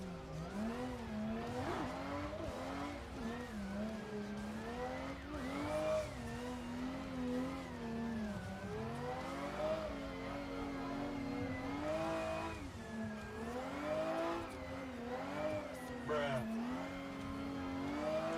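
Car engines in the Assetto Corsa racing game rev and wail continuously while chasing an AI-driven car, with rising and falling pitch sweeps throughout and a voice talking over the engine noise.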